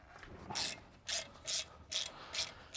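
A 6mm Allen tool turns the brake rotor set screw on a BMW F30, giving five evenly spaced rasping ratchet clicks. The sound is close but faint.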